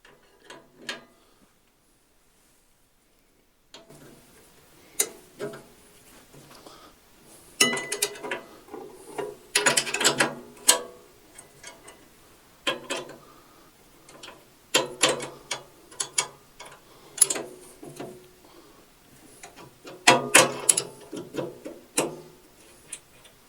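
Bolts being unscrewed on the fence bar of an FKS1600N panel saw, a series of quiet irregular ratcheting clicks and metallic ticks in short bursts, close up with pauses between turns.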